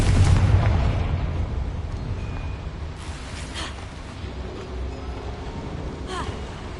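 A Confringo blasting spell explosion in the game Hogwarts Legacy opens with a loud, deep boom that fades into a low rumble, followed by a few fainter pops and crackles.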